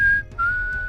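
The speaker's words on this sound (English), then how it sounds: "That's a whistle from the movie Iron Will." A sharp, clear whistle from the film Iron Will, a single high tone held briefly, broken by a short gap, then sustained again, loud and close, with no voices.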